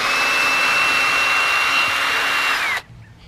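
A power drill runs steadily in a single continuous burst, backing small screws out of a wooden section during a compost pile project, loud and close, then cuts off abruptly near the end.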